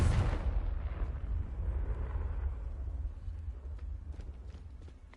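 The Confringo fire spell in the video game Hogwarts Legacy: a sudden booming blast that opens the clip and fades into a long low rumble with faint crackles, no voices.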